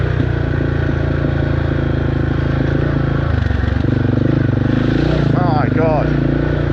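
A motorcycle rumbles along a rough dirt road with potholes and rocks, its engine droning steadily and close throughout, with a brief dip in the middle.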